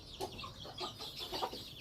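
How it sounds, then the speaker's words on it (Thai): Backyard chickens in a rural Thai coop, clucking in soft, scattered calls over a faint outdoor background, fairly quiet and close with no talking. "หลานไก่ทองนะครับ"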